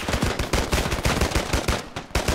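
Rapid automatic gunfire in the military shooter Arma 3 rattles in a steady fast burst of close shots, loud and continuous, with no talking over it.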